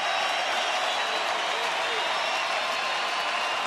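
A crowd of about thirty thousand at a Rangers–Rays baseball game stands and applauds, a broad, distant, steady roar of clapping and crowd noise with a commentator talking over it.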